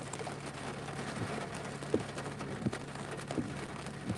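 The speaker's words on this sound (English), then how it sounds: "now it's pouring rain." Heavy rain pours down outdoors as a dense, continuous hiss with a few sharper taps and splashes, steady and close, no voices.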